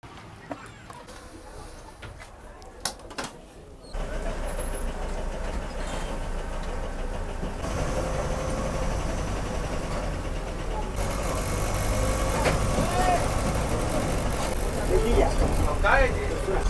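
A state-run MSRTC bus engine rumbles as the bus pulls out of the Kolhapur bus stand on a rainy journey. The low drone grows louder and steadier as it gets under way, with faint background voices.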